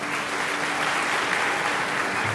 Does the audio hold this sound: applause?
yes